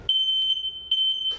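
A household smoke detector beeps in loud, high-pitched sustained tones, a long steady beep broken by two short gaps, close and alone with no talk.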